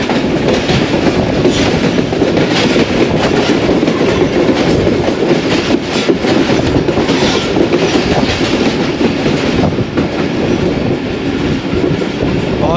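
The Ravi Express rolls along at speed, and its wheels give a loud, continuous clickety-clack on the rails, heard close up with no talking.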